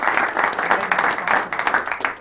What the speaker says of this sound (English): I'll give Chris a round of applause